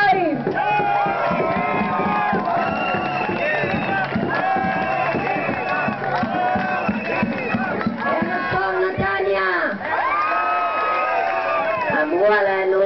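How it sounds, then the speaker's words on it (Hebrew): A crowd at a protest rally in Netanya cheers and applauds loudly and continuously, voices shouting together over steady clapping, with a speaker's amplified voice cutting through the din. "תנו לה כפיים"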